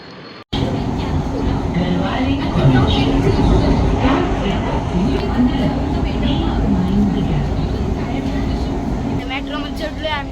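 A Pune metro train hums at a station, a loud continuous rumble and whine filling the space while people talk over it throughout.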